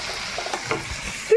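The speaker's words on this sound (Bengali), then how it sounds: "এখানে উচ্ছে ভাজা বসিয়েছি দেখতে পাচ্ছ" Bitter gourd fries in a pan with a steady close sizzle and light stirring, ending in a brief sharp tonal squeak.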